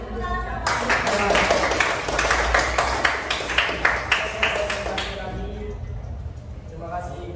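Classroom students clapping hands together, a dense burst of overlapping claps lasting several seconds that thins into a few scattered claps and fades, with a voice speaking near the end.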